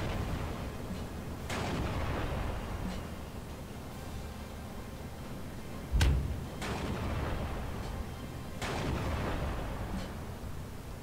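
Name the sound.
light howitzer artillery fire in the video game Steel Division 2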